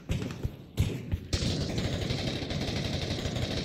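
Rapid bursts of gunfire in the Roblox-style jailbreak game, a few sharp shots early then a sustained crackling volley of automatic fire, loud and close, with no clear talk.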